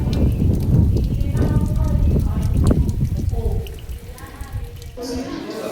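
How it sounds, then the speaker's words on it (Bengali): Heavy monsoon rain falls outside with wind at a nature camp in Deomali, a dense continuous hiss that eases and shifts near the end, with voices murmuring nearby. "বাইরে বৃষ্টি প্রচণ্ড, তার সাথে হাওয়া।"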